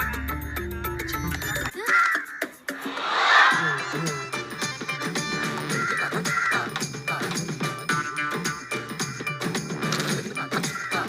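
Crows cawing around a ritual rice offering on Aadi Amavasai, harsh calls breaking out over and over, close and loud, mixed with people's voices calling out to the birds.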